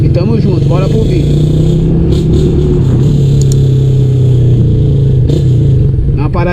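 A 150cc fuel-injected motorcycle with a loud, old aftermarket exhaust revs and rumbles up close, a steady heavy drone with a few sharper throttle blips, very loud throughout.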